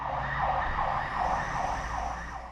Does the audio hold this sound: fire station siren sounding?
yes